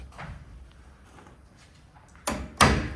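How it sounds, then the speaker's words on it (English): A JDA Vixen car door swings shut with two firm thuds close together near the end, after a quiet stretch with faint background noise. "Door shuts properly as well"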